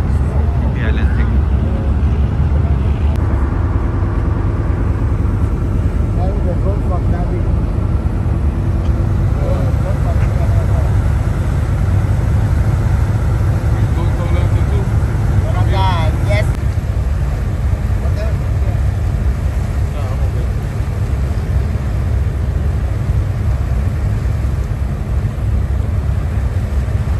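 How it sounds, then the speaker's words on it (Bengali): Steady low rumble of a ferry's engine as it pulls away from Phi Phi Island, with wind buffeting the microphone and water wash throughout; faint voices surface briefly in the background. "আমাদের বোট ছেড়ে দিছে, এখন আমরা চলে যাচ্ছি ফিফি আইল্যান্ড থেকে।"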